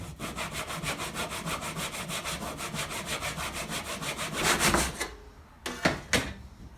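Handsaw cutting through a piece of wood on a bench hook, quick regular push-pull rasps that speed up and finish, followed by a few knocks as the piece falls free.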